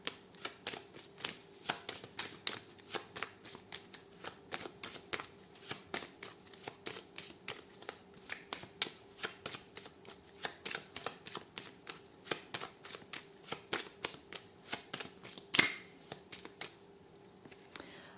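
A deck of playing cards being shuffled and cut over and over, a steady run of close, crisp riffling flicks and slaps with one sharper snap near the end, no voice.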